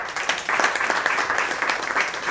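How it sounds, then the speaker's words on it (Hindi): Audience applause welcoming guest Jameel Shaikh at a Bollywood film trailer launch party, a lively, continuous patter of many hands clapping at moderate loudness from start to finish. "पुरजोर तालियों के साथ इस्तकबाल कीजिए जमील शेख साहब का"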